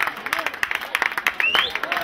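Guests clapping at a wedding celebration, a steady patter of applause running under someone speaking loudly over it.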